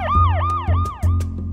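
A toy vehicle siren in a kids' app game wails in rising and falling sweeps, loud and close, repeating about four times over a low engine hum with light clicks, no speech.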